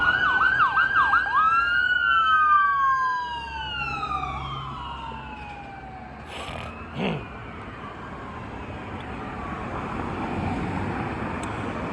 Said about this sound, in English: Let's wait for the ambulance to pass by.